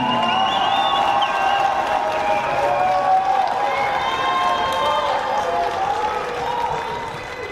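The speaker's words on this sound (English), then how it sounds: "a big round of applause for Tony Spriteman." A crowd applauds and cheers a player being introduced at the ITSF foosball World Cup on a Tornado table, clapping mixed with whoops and excited shouts that hold steady and ease slightly near the end.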